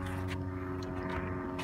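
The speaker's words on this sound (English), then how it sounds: "Hear that? Oh. Well, it's like a plane." A propeller airplane drones overhead near a lake, a steady low engine hum that holds for the whole stretch, moderately faint and with nobody talking.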